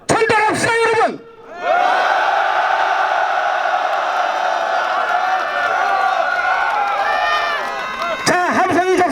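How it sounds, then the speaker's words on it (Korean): A protest crowd at an outdoor press conference condemning the failed delay of the Serious Accidents Punishment Act lets out a loud, sustained collective shout for about seven seconds, bracketed by someone speaking through amplification before and after. "서울이 떠나가도록 큰 함성으로 우리 여기를 전달합시다"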